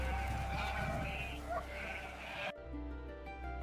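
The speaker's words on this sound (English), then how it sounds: "Only ruins and sheep remain." Sheep bleating amid the ruins of Rome, a few wavering cries over a soft background bed, followed by a sudden shift into quieter tonal sound.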